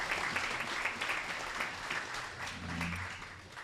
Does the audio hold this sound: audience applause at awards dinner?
yes